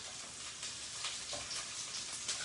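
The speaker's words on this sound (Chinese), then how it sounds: "葱姜爆香" Scallions and ginger sizzle in hot oil during stir-frying for a crab dish, a steady crackling hiss with small spitting pops, close and fairly quiet, with no talk.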